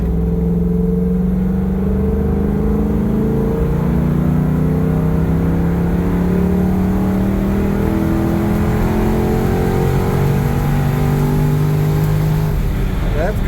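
A 1968 Ford Bronco fitted with a Ford Coyote V8 revs up loudly close by, its engine note climbing and holding over several seconds with a throaty roar.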